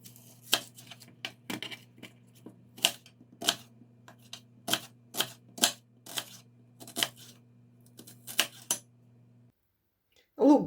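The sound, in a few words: chopping onion with a knife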